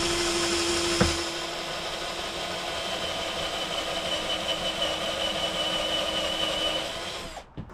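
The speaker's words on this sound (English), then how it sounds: "I countersunk with a Forstner bit" A power drill countersinks into wood with a Forstner bit in a dirt-floor shop, a steady loud whir with a sharp knock near the start that runs for several seconds, then cuts off abruptly at the end.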